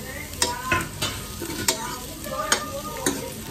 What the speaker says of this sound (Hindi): बड़ी भून चुकी है, मैं इसमें प्याज डाल रही हूँ।